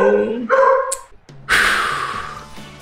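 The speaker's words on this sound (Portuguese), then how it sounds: "Até meu cachorro resolveu latir agora." A pet dog barks a few quick times indoors while a PES6 football match plays on a PC, followed by a loud wash of game crowd noise.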